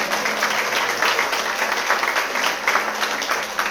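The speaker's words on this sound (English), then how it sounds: "give the nice young ladies, everyone who set this up, a round of applause too" An audience at a sheriff's office presentation on spotting scams claps steadily, a moderate wash of applause filling the room without speech.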